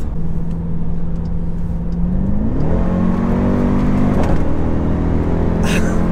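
755 HP Jeep Grand Cherokee Trackhawk with a 6.2 L engine accelerating hard from inside, a loud steady drone that climbs in pitch through a gear change and keeps pulling.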